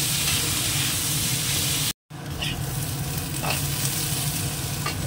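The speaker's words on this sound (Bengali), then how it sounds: "তেলের মধ্যে আলুটা দিয়ে দেবো।" Potatoes sizzle steadily in hot oil in a pan, a loud continuous frying hiss that cuts out for a moment and then resumes with faint stirring clinks.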